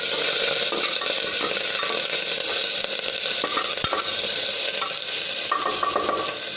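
Crushed shallots and curry leaves fry steadily in oil in a pan for a black chicken curry, a dense continuous sizzle with occasional stirring scrapes and one sharp clink, close and alone.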